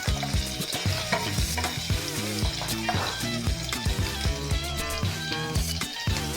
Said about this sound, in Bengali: হালকাভাবে পনিরগুলো ভেজে নেব।